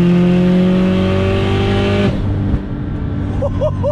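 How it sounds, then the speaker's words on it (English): A 500-horsepower Subaru accelerates hard up an off ramp at highway speed, its engine revving loud and close in a rising drone, then the note cuts abruptly as it shifts, leaving road rush and exhaust pops. "we got an off ramp, so we got to give her some rips here."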